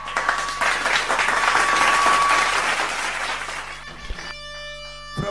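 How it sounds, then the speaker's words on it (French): A church congregation applauds and cheers loudly in sustained, dense clapping for several seconds, then the applause fades into a musical tone and background hum. "Acclamez un peu très fort pour le Seigneur Jésus."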